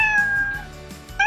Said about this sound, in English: Our cat says meow.